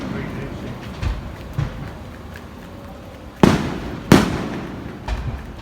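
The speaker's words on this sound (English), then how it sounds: "While the fireworks are going on." Fireworks over a Mallorca holiday setting, two sharp loud bangs standing out from a continuous crackling, rumbling background, with people talking faintly.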